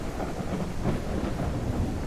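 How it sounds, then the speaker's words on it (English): Thunder rumbles under steady rain during a storm in the farming game Ranch Simulator. The low rolling thunder stays constant over the brief span with no voices. "I wish the rain would go away."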